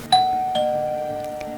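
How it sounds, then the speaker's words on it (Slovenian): A doorbell rings out with two clear chime strikes about half a second apart, the tones ringing on and fading slowly over a quiet room background, close and distinct with no voices. "pritisne na zvonec"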